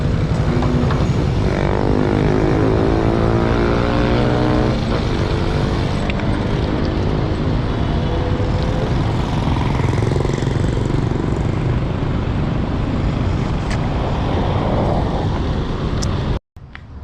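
Engines rumble in slow road traffic heard from a mountain bike rider's position, a loud, steady low drone with a passing vehicle's rising hum partway through, no talk.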